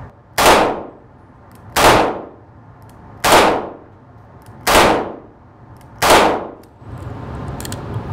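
Five loud .38 Special revolver shots fired at a steady pace about one and a half seconds apart, each a sharp close crack with a brief ringing tail, outdoors on a shooting range.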